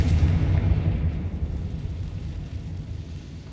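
A Confringo fire spell explodes in the Hogwarts Legacy video game, giving a loud low boom up front that rumbles and slowly fades away, with no talking.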